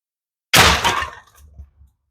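A PCP airgun fires a slug in a single sharp, loud crack, followed by a brief fading tail with a couple of faint low thumps as it dies away; no voices.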